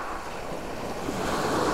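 Mediterranean Sea waves wash steadily onto the shore before sunrise, a broad continuous hiss of surf mixed with wind buffeting the microphone, fairly close and with no voices.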